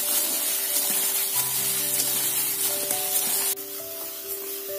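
Food stirred in hot vegetable oil, a loud steady sizzle and crackle with scraping stir sounds, quieting slightly near the end; close, with no voices.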